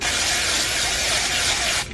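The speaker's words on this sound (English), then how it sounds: "spraying some more dry shampoo in my hair because" Dry shampoo sprays onto hair from an aerosol can in one steady, loud, close hiss lasting nearly two seconds before it cuts off abruptly.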